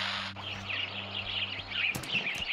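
Birds chirp in a video game sandbox world, bright twittering calls repeating steadily over a low droning hum, with a couple of sharp clicks near the end.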